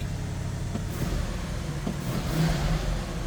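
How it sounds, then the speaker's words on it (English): A 1976 Lincoln Mk IV engine on high idle just after a cold start, a steady low rumble with a slight swell, close and alone. "That was a cold start, so we're going to have to let her warm up here a little bit."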